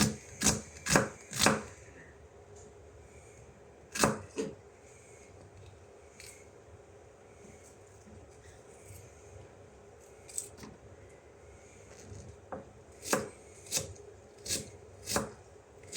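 Knife mincing food on a cutting board while cooking stir fry beef: sharp, close chops in quick bursts of two or three, separated by pauses, with softer scattered taps between.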